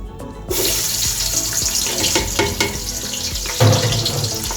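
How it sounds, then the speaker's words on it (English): Chopped onions hit hot oil for a Nigerian beef stew, bursting into a loud, continuous close sizzle after a brief quiet start, with a few clinks and a stronger surge of crackle near the end. "So now we add the chopped onions."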